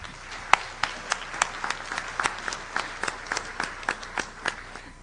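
Audience applause at an introductory welcome session, a thin scatter of distinct, fairly sharp hand claps spread steadily across the clip, moderately distant and not very loud, with no voices over it.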